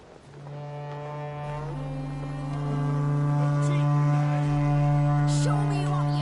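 A deep, sustained horn blast in The Witcher 3: Wild Hunt holds steady for several seconds, swelling louder toward the end, with faint voices and activity underneath.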